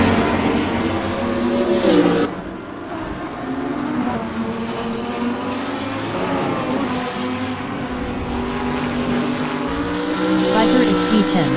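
A Lamborghini Huracan GT3 race car engine at Bathurst in a sim race, a loud continuous high-revving roar that rises and falls through the gears, with a commentator talking over it.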